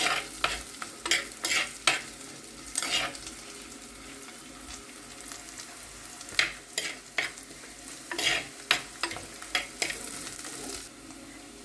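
Curry leaves fry in a pan for a fish curry, a soft steady sizzle broken by repeated stirring scrapes and clinks of a spoon, fairly quiet with no talking.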